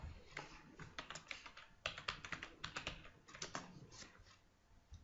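Fingers typing text on a computer keyboard, a quick irregular run of close, soft key clicks in short bursts with brief pauses, nobody speaking.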